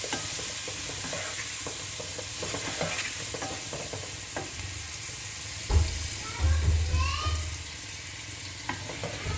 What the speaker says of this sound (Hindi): अब आलू टमाटर भूनने हैं।